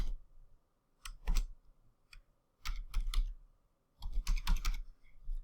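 Quiet typing on a computer keyboard during a WordPress theme installation, arriving in short bursts of crisp key clicks separated by pauses, close and fairly soft.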